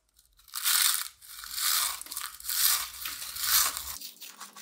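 Close, crisp crunching of Hot Ones flavored Pringles chips being chewed, four or five swelling waves of brittle crackle with short gaps between them, alone without speech.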